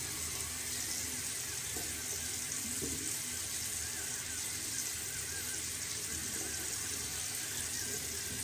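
Tap water runs steadily over brush bristles being rinsed, a constant hissing splash with no break, moderately close and fairly quiet.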